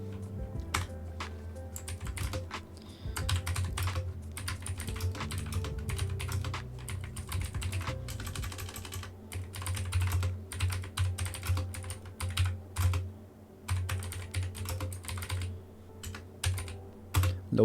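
Steady typing on a computer keyboard while notes are written, with quick irregular clusters of key clicks and short pauses over a low background hum.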